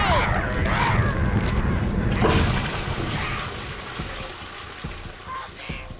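A toilet flushes in a hospital setting, a broad rushing swirl of water that is loudest at the start and then tapers into a softer draining trickle over several seconds.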